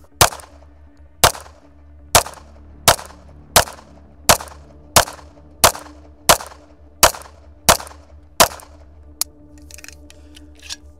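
An Atlas EOS pistol fires about twelve sharp, loud shots at a steady pace of roughly one per second as the magazine is emptied, each crack followed by a short decay, with faint rustling afterward.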